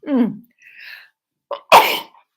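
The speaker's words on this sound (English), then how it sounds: "I'm going to sneeze" A person sneezes loudly after a few breathy, vocal build-up sounds, with a short exhale trailing off.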